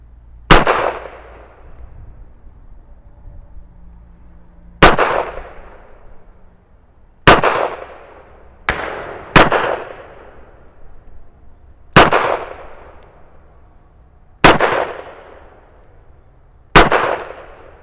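Seven sharp, loud shots from a World War II era Colt M1911A1 .45 pistol firing Winchester 185 grain ammunition, spaced unevenly a second or two apart, each a hard crack with a brief ringing decay and no talking between.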